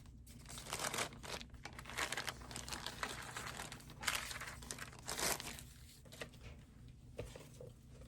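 Paper flower embellishments crinkle and rustle as they are handled, in a steady run of close, crisp crackles and rustling bursts with no one talking.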